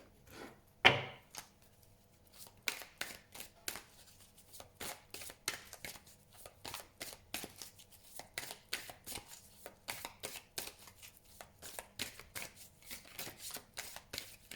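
Tarot cards being shuffled by hand, an initial sharp slap followed by a long run of soft, rhythmic riffling and tapping strokes, quiet and close.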